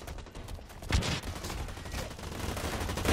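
Gunfire in the video game Blacklight Retribution, a dense steady stream of shots with one sharper crack near the start, continuous and fairly loud with no talk.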